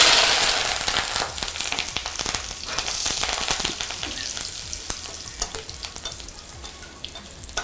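Eggs and curry leaves fry in hot oil, loud spitting crackles and sharp pops bursting over a steady sizzle that slowly eases toward the end.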